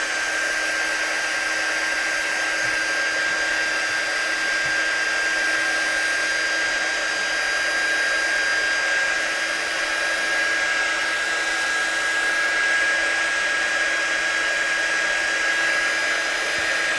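A handheld heat dryer blows continuously over watercolour-stamped Christmas cards, a steady, even whirring hiss that holds unchanged throughout with no talk.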